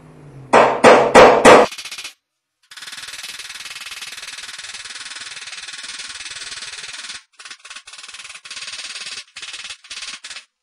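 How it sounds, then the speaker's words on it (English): A few sharp metallic taps ring out close by at the start as dents are hammered out of a 1959 Chevy pickup hood, followed by a long steady hiss with brief breaks. "When you're hammering your dings out, don't get all physical with it."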